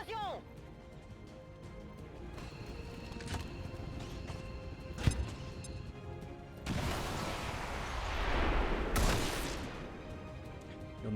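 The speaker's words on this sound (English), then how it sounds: "Explosion!" A frag grenade detonates in a video game, a loud broadband blast with a rushing, crackling tail, followed by a second short burst about two seconds later, over softer game sounds and clicks.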